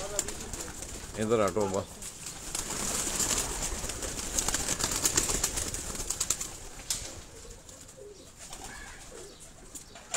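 High-flying pigeons kept by a Karachi fancier coo and rustle near their cages, a soft steady murmur of birds with a brief close voice speaking at the start and distant talk throughout.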